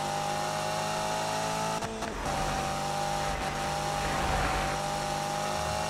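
A Subaru BRZ engine in the game Need for Speed 2015, holding a steady high whine near the rev limiter, briefly cut twice by short dips, with faint tire noise underneath and no voices.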